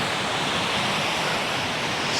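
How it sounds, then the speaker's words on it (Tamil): Fast snowmelt water rushing like a river in snowy Manali, a steady, loud broadband roar that stays constant and close throughout with no pauses. "இங்கே பாருங்கள் மெல்ட் ஆகிற தண்ணி எவ்வளோ வேகம் வந்து ஆறு மாதிரி ஓடுது."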